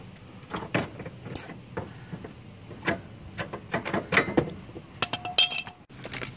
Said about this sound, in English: All right, removing the clamps.